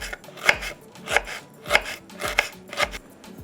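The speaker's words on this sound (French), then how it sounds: "je vais couper ça en tout petites rondelles" A knife slicing a small chili pepper into thin rounds on a board, making about six crisp, evenly spaced chops, close and clear with no talking.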